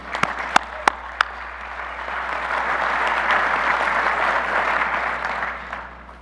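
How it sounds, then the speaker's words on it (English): An audience at an annual business meeting applauds the board, opening with a few sharp individual claps before swelling into steady, full crowd applause that tapers off at the end. "So please give our entire board a round of applause for all they do for you."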